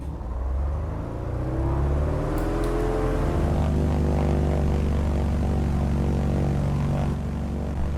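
A simulated GA8 Airvan in Microsoft Flight Simulator taxis with its engine droning steadily, a deep rumbling hum with a whirring propeller tone that swells slightly and holds at a constant level throughout.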